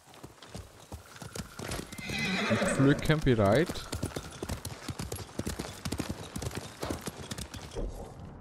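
Horse hooves clip-clop in a steady rhythm with a brief whinny in the video game Ghost of Tsushima, while someone talks in German over the sounds.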